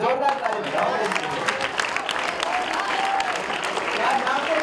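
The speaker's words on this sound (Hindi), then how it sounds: "क्या बात है, जोरदार ताली बताओ।" An audience at a school event at Acharyakulam, Haridwar applauds, with loud, steady, close clapping that runs throughout and no break.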